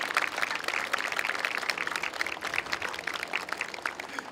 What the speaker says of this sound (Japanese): 皆様盛大な拍手をお願いします。